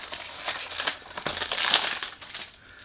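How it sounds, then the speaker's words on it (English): Crisp crinkling and crushing of the packaging of a perfume box, repeated rustles and crackles close by, with no talking. "Sorry about the noise. When you do unboxing, you can't do anything about it."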